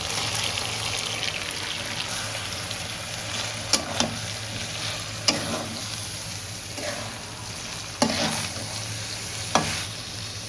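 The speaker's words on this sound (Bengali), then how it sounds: "এবার দিয়ে দেবো চানার ডাল।" Chana dal stirred into chicken in a pan for bhuna khichuri, a steady low sizzle with a spoon scraping and knocking against the metal at intervals, close and with no talk.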